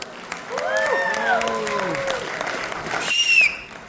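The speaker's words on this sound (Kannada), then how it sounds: "ಈ ಎನರ್ಜೆಟಿಕ್ ಸ್ಟಾರ್ಸ್ಗೆ ಇನ್ನೊಮ್ಮೆ ಜೋರಾಗಿ ಚಪ್ಪಾಳೆ ಬರಲಿ" An audience at a Deepavali event applauds a children's dance, with sustained clapping mixed with rising and falling whistles and a brief sharper whistle near the end.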